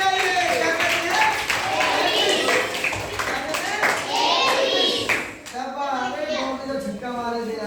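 Children clapping in a classroom during a science lesson, a quick burst of hand claps mixed with an adult's and kids' voices talking over it, close and lively.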